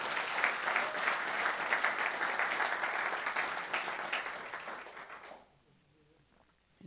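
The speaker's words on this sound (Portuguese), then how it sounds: "dê um aplauso forte para o Senhor Jesus" A crowd applauding steadily and loudly for several seconds, then fading to quiet.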